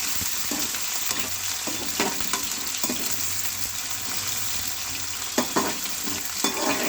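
Spinach and potato bhurji with long-cut onions being stir-fried in a pan, steady loud sizzling throughout, with spatula scrapes and knocks breaking through at irregular intervals.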